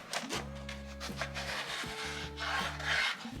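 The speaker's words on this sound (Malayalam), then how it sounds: "ഞാൻ ഒന്നെടുത്ത് കട്ട് ചെയ്ത് കാണിച്ചിട്ട്" A knife cuts brinjal (eggplant) on a board in a kitchen, making a series of close, rasping strokes in a repeated back-and-forth rhythm.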